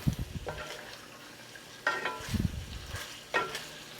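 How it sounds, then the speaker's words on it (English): Food for lo mein fries in a cast iron pan while it is stirred, a low sizzle broken by a few distinct scraping and shuffling strokes, close and fairly quiet, with no talking. "I just start stirring it."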